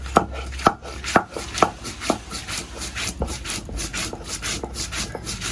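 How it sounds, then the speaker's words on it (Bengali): Mustard seeds, cumin, ginger and green chillies are ground together into paste, heard as a series of sharp rhythmic grinding knocks and rubbing strokes, close and fairly loud, with no talk. "এবার সবকিছু একসাথে বেটে নেব।"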